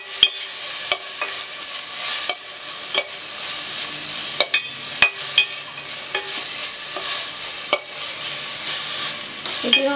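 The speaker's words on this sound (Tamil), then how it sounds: "அதையும் சேர்த்து நல்லா ஃப்ரை பண்ணுங்கள்." Ground ginger, garlic, pepper and cumin paste frying in a pan, a steady loud sizzle with repeated sharp scrapes and taps of a spoon stirring throughout, no voices.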